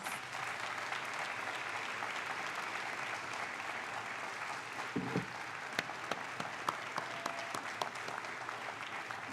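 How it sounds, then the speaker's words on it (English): Sustained audience applause during a mayor's State of the City address, a steady wash of clapping from a large crowd over several seconds, thinning toward the end into a few distinct, sharper claps. "Let's give them a big round of applause."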